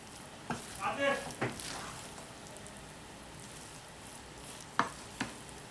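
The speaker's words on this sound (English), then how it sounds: "Then I stir it. It's on a low fire." Jollof rice stirred in a pot over a low fire gives soft scraping strokes and a few light clinks against a quiet background hiss of gentle sizzling.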